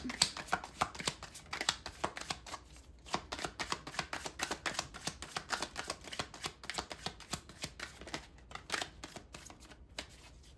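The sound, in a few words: shuffling tarot cards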